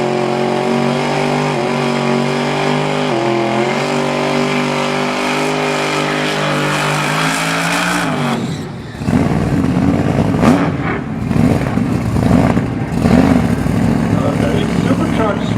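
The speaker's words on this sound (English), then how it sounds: "Supercharged small block running through the mufflers, and it's quiet enough where you can run it on a muffled event like that." A supercharged small-block engine in a drag car with small rear tires, running through mufflers at a drag racing event, idling with a steady rumble, then revving hard into loud, rough bursts of throttle in the second half.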